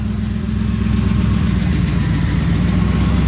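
A 1978 Chevy C10 shop truck idles after a cold start, its engine throbbing in a loud, steady low rumble close by with an even pulsing rhythm and no voices.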